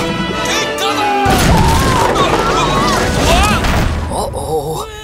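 Toy figures stage a cannon battle, with loud booming blasts and crashes layered under dramatic music, characters voicing the action over the din.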